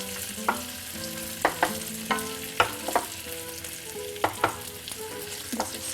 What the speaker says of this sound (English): We'll just saute until they puff up and they'll be really nice and